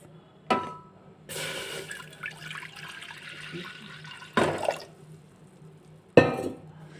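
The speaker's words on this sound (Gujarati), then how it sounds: "એક મેં કુકર લઈ લીધું છે એનામાં હું ત્રણ કપ જેટલું પાણી નાખીશ" Water pours into a metal pressure cooker in a few separate bursts, about three cups, splashing loudly at each start, with quieter gaps between pours.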